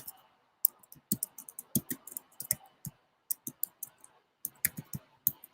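Keyboard typing, an irregular run of sharp, close clicks and taps in quick bursts separated by short pauses, with a faint voice briefly in the background.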